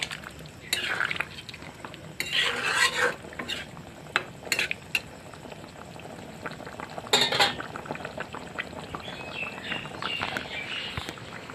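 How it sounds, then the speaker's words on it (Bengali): Fried taro and potatoes go into a simmering goat meat curry, with clinks and clatters of a metal spoon against the pot in scattered bursts over a low background hum, and no talking. "এবারে কচু আর আলুগুলো দিয়ে দিচ্ছি"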